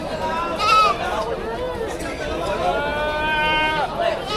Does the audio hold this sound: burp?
no